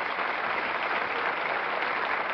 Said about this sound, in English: The applause now, much deserved.